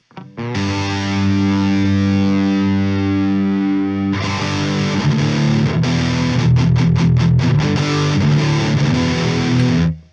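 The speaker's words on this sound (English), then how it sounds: "There's your chorus," A distorted electric guitar through a JST ToneForge Misha Mansoor amp plugin sustains a chord, then strums a new chord with a shimmering, swirling chorus effect, loud and close.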